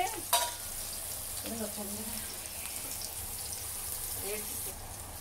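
Sambal paste fries in plain oil without onions for a salmon sambal, a steady sizzle with stirring scrapes and a clink, while someone talks over it.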